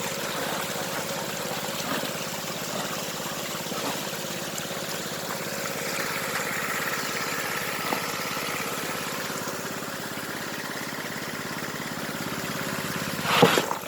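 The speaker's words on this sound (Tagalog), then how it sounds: "Ayan po silang gamit na makina para po sa pagpapatubig." A small engine-driven water pump idles steadily beside running water that splashes and trickles at a river, a constant mid-level hum with no talking.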